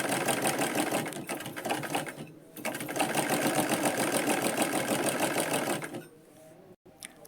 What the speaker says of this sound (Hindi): तो देखिए अभी यहाँ पे हम सिलाई लगा रहे हैं